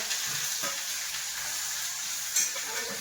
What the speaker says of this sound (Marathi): तर हे बघा, जिरे मोहरी टाकले आणि कढीपत्ता, कांदा, टोमॅटो